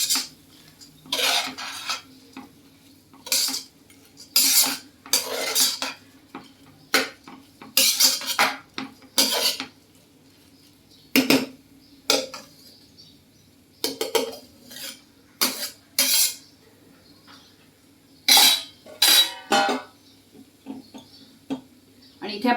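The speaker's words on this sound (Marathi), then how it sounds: "आणि हे असे छान परतून घ्यायचे आपल्याला." A metal spoon stirs basmati rice being sautéed in a pan for a lentil khichdi, giving repeated close scraping and clanking strokes with pauses between them over a low background hum.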